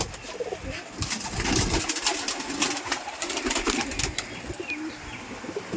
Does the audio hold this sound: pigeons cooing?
yes